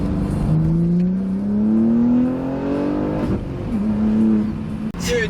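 A tuned BMW G80 M3 with aftermarket intakes and exhaust revs hard and accelerates, its engine note climbing steadily, dropping briefly at a shift, then pulling again, loud and close with no talk over it.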